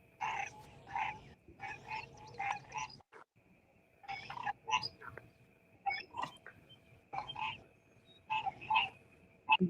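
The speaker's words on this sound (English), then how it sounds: "You hear all that nature going on out there. Frogs everywhere." Frogs croaking outdoors, loud overlapping bursts of raspy croaks in repeated clusters separated by short pauses, with a steady high insect-like tone underneath.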